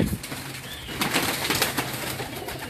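Pigeons kept by a breeder, with soft cooing and brief bursts of wing flapping close by, steady ambient noise throughout and no talking.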